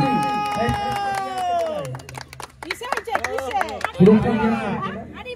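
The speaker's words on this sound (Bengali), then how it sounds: "মামা হাততালি" Audience clapping at a cooking competition prize announcement, short bursts of applause mixed with crowd chatter and voices calling out, rising again toward the end.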